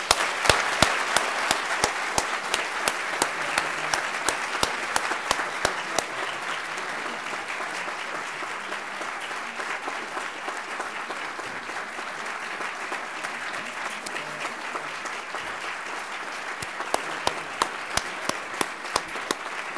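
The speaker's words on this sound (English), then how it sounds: "I'd like to give a round of applause to all of them" An audience at a university inauguration symposium applauds the session's panelists, a sustained, even round of clapping from a large hall, with sharper individual claps standing out near the start and end.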